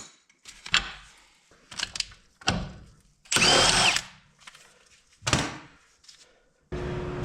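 Short bursts of a power tool, likely an impact gun or drill, loosening the sway bar link bolt on a 2011 Kia Sorento, with a louder whirring run in the middle and clanks of tools between.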